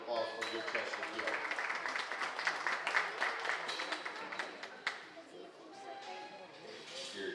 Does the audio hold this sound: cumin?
no